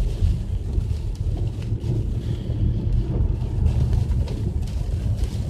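Strong wind roars and buffets the microphone in a steady, gusty rush outdoors during Oklahoma severe weather, with no voices.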